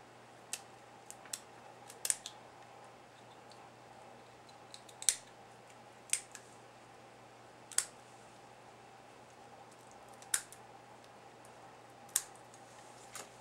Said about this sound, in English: Using your scissors, cut along the side of the crayfish, extending the cut line forward toward the rostrum at the top of the head